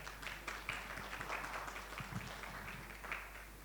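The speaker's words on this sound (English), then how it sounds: "Please welcome our moderator with a round of applause" An audience at a summit session applauds the moderator with a steady, moderately distant round of clapping that holds at an even level throughout, backed by a low electrical hum.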